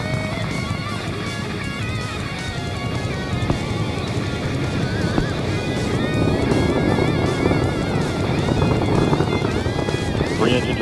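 The Space Shuttle Columbia's main engines, throttled to 104% during launch, give a steady, heavy roar with broad rumbling noise that lasts throughout, while a commentator's voice and radio chatter run over it.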